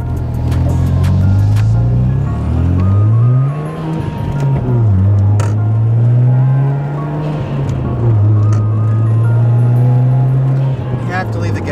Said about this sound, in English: You have to leave the gas station a little faster than normal because you're in an RX-7